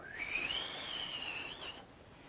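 A person whistles a single sustained, gliding tone that rises and wavers, imitating a paintbrush whirring through the air, heard close and clear with no talk.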